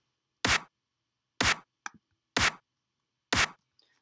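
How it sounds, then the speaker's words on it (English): Clap sample for a deep future house track, four evenly spaced sharp bright claps about a second apart, dry and isolated, with a faint small tick between them. "Now we have two different claps."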